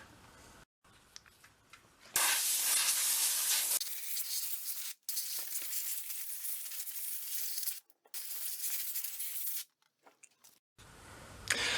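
Compressed air blasts debris off a salvaged John Deere chainsaw, a loud broadband hiss in several bursts of one to three seconds separated by short pauses, with no talking.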